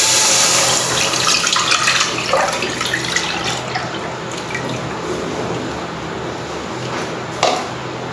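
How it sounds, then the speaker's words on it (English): Milk poured into a pan while making kulfi, a steady close liquid stream and splashing that runs for several seconds, with a small clink near the end. "Now in a pan we'll add the milk."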